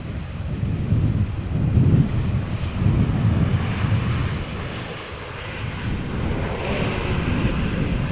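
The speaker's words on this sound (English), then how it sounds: "Time for another 737 from KLM, arriving from Helsinki, Finland." A KLM Boeing 737 arrives at Amsterdam Schiphol in crosswind, a steady, moderately distant jet engine roar that swells and fades with gusty wind buffeting the microphone.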